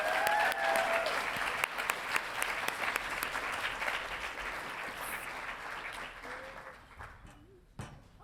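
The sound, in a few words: audience applause welcoming a speaker to the stage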